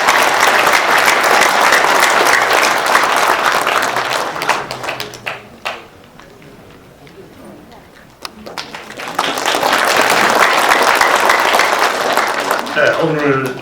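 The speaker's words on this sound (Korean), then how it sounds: "여러분 큰 박수 부탁드리겠습니다." An audience at a Korean national-security rally claps loudly to welcome a speaker introduced as a former presidential physician. A long burst of applause dies down to a near-silent lull, then a second full round of clapping swells up again.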